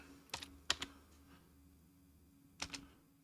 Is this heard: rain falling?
no